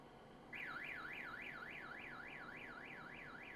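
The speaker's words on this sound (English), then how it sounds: "that alarm is so annoying." After a short quiet lead-in, a loud vehicle alarm from Farming Simulator 19 starts and keeps up a fast, even rising-and-falling siren wail to the end, with no talking.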